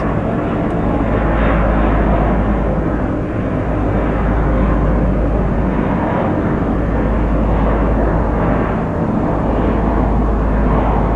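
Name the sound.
airplane taking off from Haneda Airport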